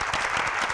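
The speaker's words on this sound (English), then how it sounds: "Can we give these gentlemen a round of applause, please?" An audience applauds a group of gentlemen, a steady, dense clatter of many hands clapping throughout, close and fairly loud, with no talking.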